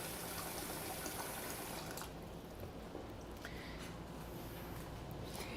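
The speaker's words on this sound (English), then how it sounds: "I'm going to add a little bit of water to my canner over here" Water gushes quietly from a tap into a home canner during tomato canning, a faint steady pouring rush that lightens after two seconds, with no speech.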